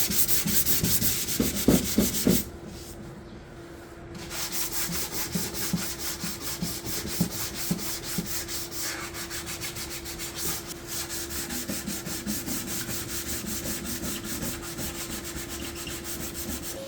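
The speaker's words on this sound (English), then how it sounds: "I started sanding the dowels by hand to make them ready for the finish" Steady back-and-forth rubbing of sandpaper by hand on wooden dowels, close and continuous, with a short pause early on and a faint constant hum underneath.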